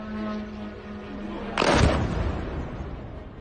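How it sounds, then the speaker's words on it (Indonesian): A distant explosion over Dubai at night: a sudden broad, deep boom at mid-clip that rolls into a long rumbling decay, heard over steady low background hum. "Suara dentuman terdengar di kejauhan"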